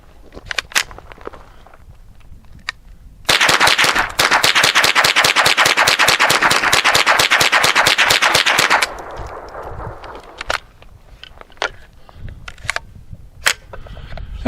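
A pistol fires a rapid string of 25 rounds as fast, evenly spaced, loud shots in one sustained burst. Scattered clicks and handling noises come before and after it.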